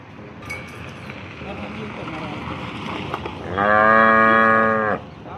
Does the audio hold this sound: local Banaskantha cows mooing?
yes